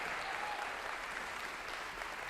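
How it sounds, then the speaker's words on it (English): An audience at a morning talk applauds steadily, a dense, even wash of clapping that holds at a constant moderate level from start to finish with no voices on top. "Give them a big round of applause."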